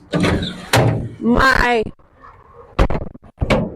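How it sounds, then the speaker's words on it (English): A school bus emergency door swings shut and latches with a pair of sharp thuds near the end, following a stretch of close-up talking. "emergency door closes freely and latches properly or locks properly"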